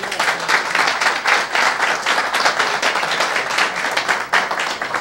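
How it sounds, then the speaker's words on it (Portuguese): An audience at a Brazilian advertising industry event breaks into sustained applause, dense steady clapping from many hands filling the room at close range, with no voices standing out. "e ao Calil, uma salva de palmas"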